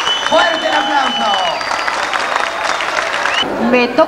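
A crowd applauds at a tribute evening, the clapping steady and fairly loud beneath music and voices for a few seconds.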